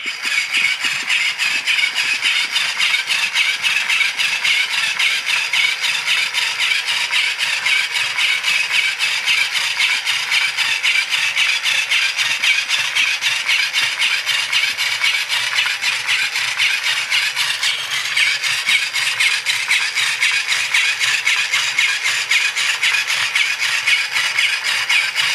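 A small electric crawling frog toy whirs and rattles across carpet with a steady mechanical buzz, close and continuous for the whole stretch with no talking.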